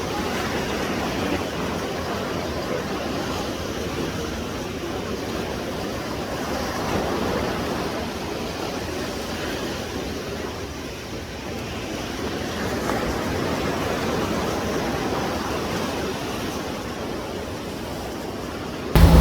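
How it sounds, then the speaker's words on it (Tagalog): Loud, continuous roar of strong surf crashing close by at a La Union beach, Philippines, steady broadband rush with slight swells in intensity and wind buffeting the microphone. "Ang lakas ng alon dito."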